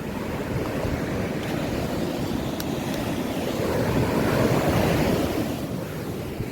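Sea waves roll onto the shore in a steady, close, loud surf roar that swells slightly midway, with wind buffeting the microphone throughout and no voices.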